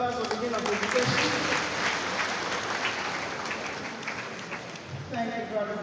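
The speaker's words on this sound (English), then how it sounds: "another round of applause for the beginning of the presentation" An audience at a university Faculty of Education workshop gives a round of applause, clapping sustained beneath a speaking voice at the start and end and fading slightly toward the close.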